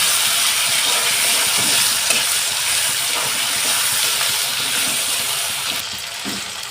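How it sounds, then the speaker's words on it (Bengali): Masala of chopped tomato, salt and ginger-garlic paste is stir-fried in a pan for a rohu fish-head curry, giving a loud, steady, close hiss and sizzle with faint stirring scrapes and no talk. "আমি আদা রসুনের পেস্ট দিলাম দিয়ে আমি মশলাটাকে ভালোভাবে কষিয়ে নেব"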